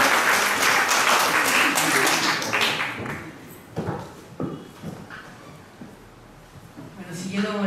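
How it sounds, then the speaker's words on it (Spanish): Audience applause at a poetry recital for Women's Day: a dense burst of clapping that fades after a few seconds, followed by scattered claps and voices talking. "un aplauso para Marita Troyano, por favor"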